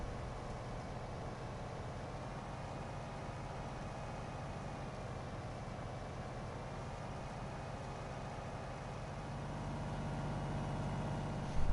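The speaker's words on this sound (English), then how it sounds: "Normally, when you accelerate in a vehicle in Farm Sim, the engine revs with it. It sounds like it's idling the whole time." A tractor-type vehicle engine in Farming Simulator 19 on PS4 idles in a flat, unchanging low drone, steady and unrevving for the whole stretch.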